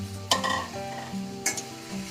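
Eggplant sizzles and fries in a pan while being stirred, with two distinct scraping stir strokes over a steady close sizzle and no talking.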